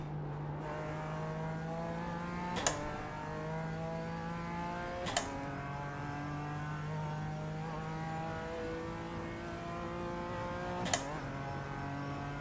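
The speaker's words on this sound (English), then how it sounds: "Oh, noisy Mustang." A Ford Mustang race car engine in a racing video game at the Nürburgring Nordschleife drones steadily at high revs, pitch stepping through gear shifts, with a few sharp clicks punctuating the continuous roar.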